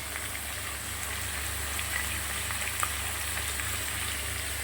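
Malabar spinach leaves sizzle in hot oil seasoned with panch phoron for a pea and greens dish, a soft, even crackling hiss that carries on without break and without voices.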